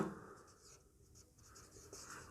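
A pen scratches across paper during a class 5 maths lesson, giving quiet, close strokes with slight pauses in a hushed room.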